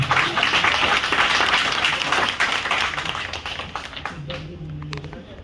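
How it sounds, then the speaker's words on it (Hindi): A ceremony audience at a founding-day celebration of a soldiers' service council bursts into loud, dense applause that fades over several seconds, and a voice begins speaking as the clapping dies away. "तो जोरदार तालियां"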